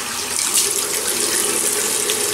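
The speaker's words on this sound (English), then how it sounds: "So let me wet the face." A tap runs with a steady close hiss and splash of water as the face is wetted before shaving, with no voices.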